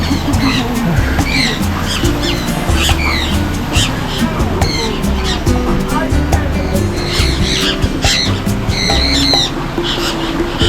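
A crowd of birds squawks and screeches over and over while being fed, loud and close, over a busy outdoor background with people talking.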